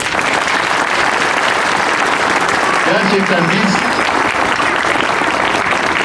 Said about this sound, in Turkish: İndak'a sizden lütfen kocaman bir alkış istiyorum.